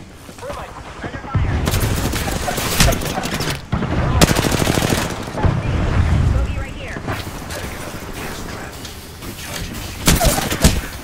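Heavy gunfire in the battle-royale video game Apex Legends, loud sustained automatic bursts with short pauses, and players talk over the shooting.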